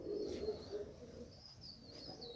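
Young September squeakers, pigeon chicks not yet flying, cooing low and softly near the start with thin high chirps and peeps over the top, faint and close.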